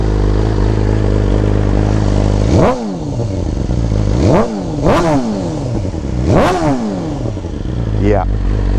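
A BMW S1000RR sport bike fitted with a new exhaust idles with a steady drone, then revs sharply three times in quick succession, each blip rising and falling, with a smaller rev at the end, loud and close.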